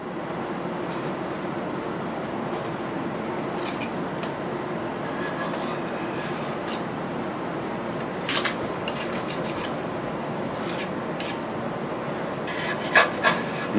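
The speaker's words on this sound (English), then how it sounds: "the paint is really ready to come off now. So let's scrape it off." A steel scraper rasps old paint off the belt guard of a South Bend shaper, a close, steady scratchy rubbing that runs throughout, with a few sharper scuffs and clicks near the end.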